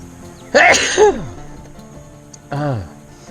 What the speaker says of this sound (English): If I'm sneezing, it means I'm breathing.